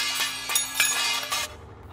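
Plates and glasses are dropped on purpose, bright clinks and crashes of glass and ceramic stacking in quick succession for about a second and a half before fading into quiet.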